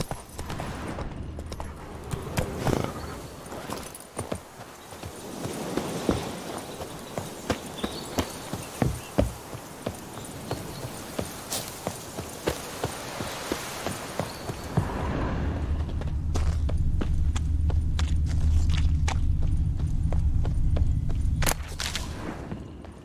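Horse hooves clip-clop and gallop in The Witcher 3 video game, a quick rhythmic run of close, punchy hoofbeats that gives way to a steadier low rumble of movement near the end.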